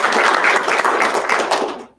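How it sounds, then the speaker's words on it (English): A small audience claps for a presentation at a blockchain event, a brief round of close, crisp hand claps that fades out abruptly at the end. "I'll give you a round of applause"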